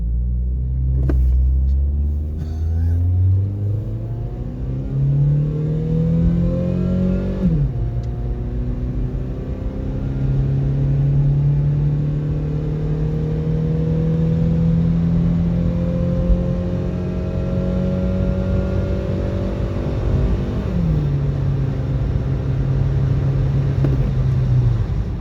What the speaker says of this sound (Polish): Przyspieszenie do pierwszej setki